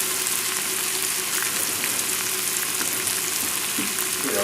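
Almond-encrusted fish fillets frying in a pan give a loud continuous sizzle and crackle close up, steady throughout with light scraping near the end.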